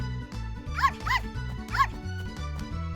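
A cartoon puppy on a farm barks and yips three times in quick bursts over bouncy background music.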